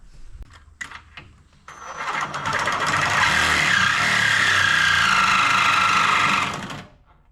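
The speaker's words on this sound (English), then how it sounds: "we can just take the Sawzall and cut the bar" A Sawzall reciprocating saw cuts through a metal bar during a front cowling install on a John Deere 450C, starting with a few clanks before a loud, sustained buzzing rasp that stops abruptly near the end.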